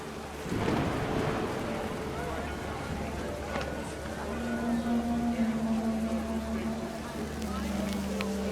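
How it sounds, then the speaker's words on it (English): Steady heavy rain pours down with a low rumble of thunder rolling underneath, dense and continuous throughout, from the video game What Remains of Edith Finch. "The rain came down in buckets then"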